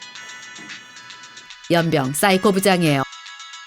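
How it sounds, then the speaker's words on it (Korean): A telephone ringtone chirps in a steady repeating pattern at moderate level at the start of an office lunch scene, then a voice speaks loudly over it. "그때 전화가 울리기 시작해요."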